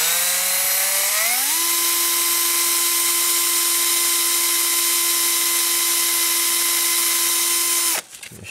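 A power drill drills a hole in a Toyota Camry engine repair, its motor spinning up with a rising whine and then holding a loud, steady high-pitched drone for several seconds before stopping abruptly.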